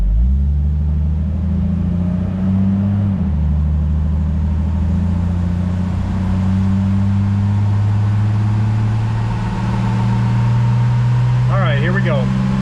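A Jeep Wrangler with the 4.0 engine and an exhaust header runs steadily on a dyno with a loud, continuous low rumble. The pitch shifts slightly partway through, and a voice speaks briefly near the end.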